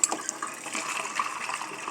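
Water pours onto frozen parrot food biscuits in a dish, a short splashing, trickling rush that runs steadily for a couple of seconds, close by with no talking.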